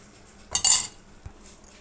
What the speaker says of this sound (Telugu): గిన్నెలో మార్చి చూపిస్తాను అండి